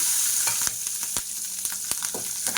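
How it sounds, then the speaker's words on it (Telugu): Green chillies frying in oil in a pan for cabbage pachadi, a constant bright sizzle broken by sharp clicks of a spatula stirring, close and fairly loud. "ఇప్పుడు పచ్చిమిరపకాయలు ఫ్రై చేసుకుందామండి"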